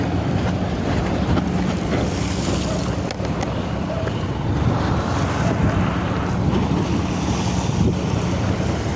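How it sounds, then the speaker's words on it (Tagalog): Strong sea wind roars steadily across a microphone on a fishing boat off Zamboanga City, with buffeting gusts and the wash of waves beneath. The sound is loud and continuous, with no clear speech. "Lakas ang hangin master."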